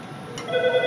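A desk phone in an office telephony demo rings for an incoming call, its steady tonal ring starting midway through the short clip and holding clear over low background hum.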